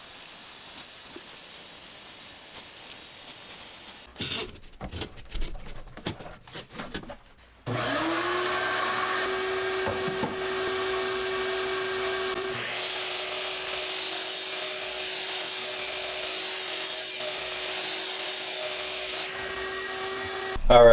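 A small shop vacuum runs as dust extraction on a Bosch GCM miter saw, first in short bursts, then as a steady, loud, high-pitched whine that continues unbroken to the end.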